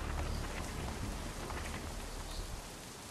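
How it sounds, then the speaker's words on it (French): Steady rain pours down in Assassin's Creed 3, a dense, even hiss of drops on surfaces that stays loud and continuous throughout with no other sounds. "Wow, de la pluie. Magnifique."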